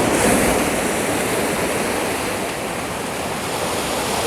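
Ocean surf breaking on a shore at dusk during a landscape photography outing, a steady broadband wash of waves that stays loud and continuous throughout with no voices.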